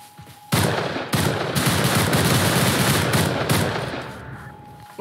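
Rapid automatic gunfire from the game Rust: loud, sustained bursts with short breaks between volleys, close and dominating, with no talk over it.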